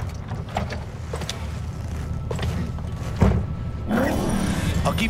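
A boat's engine idles steadily in the open world of Cyberpunk 2077, a continuous low rumble under the whole stretch, with a couple of dull thumps and some rising mechanical noise near the end; faint voices may be mixed in.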